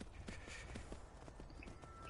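Horse hooves clip-clop steadily in the video game Skyrim, a rhythmic run of soft thuds over a dense, constant background bed of game ambience.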